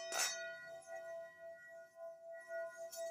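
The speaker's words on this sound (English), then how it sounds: "Let me give you an example of one of the bowls right now. This is one of my older bowls" Older Tibetan singing bowl struck once at the start and again near the end, each strike a soft metallic hit followed by a faint, sustained ringing tone that lingers and slowly fades.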